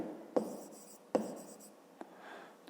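A pen writing on paper, with two sharp taps followed by short scratchy strokes and a faint final scribble, close and quiet with no talk.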